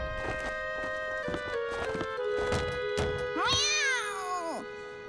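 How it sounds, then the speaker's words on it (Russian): Cartoon kittens meow in a children's animated series about buses, a run of high repeated mews followed by a long, rising and falling cry, with soft thumps and light background sound. "Получается, это были... Просто котята?"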